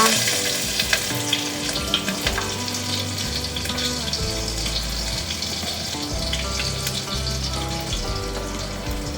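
Slit green chillies and curry leaves fry in hot oil with cumin, making a loud, dense crackling sizzle that runs steadily throughout, close and with no one speaking.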